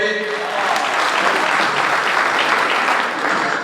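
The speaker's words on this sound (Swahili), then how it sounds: "Tuwapigie makofi." An audience at a youth organization launch at the Bomas of Kenya breaks into loud, sustained applause, dense clapping that rises quickly and holds steady throughout.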